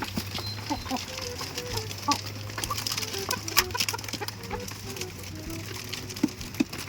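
Broiler chickens cluck and murmur in scattered, fairly quiet calls over a steady low hum, with faint human voices in the background.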